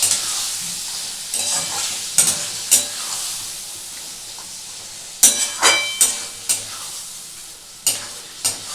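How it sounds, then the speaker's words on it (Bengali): Mustard and poppy seed paste for a Bengali prawn dish is stirred and fried in a pan. A steady loud sizzle runs throughout, broken by sharp, regular spatula scrapes and knocks close by. "এটাকে একটু ভালো করে একটু আগে ভেজে নেবো।"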